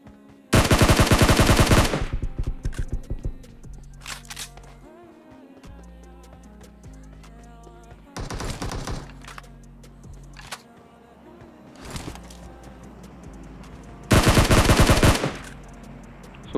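Automatic gunfire in PUBG Mobile erupts in several loud bursts, the longest near the start and end, with shorter shots between over a quieter game soundscape.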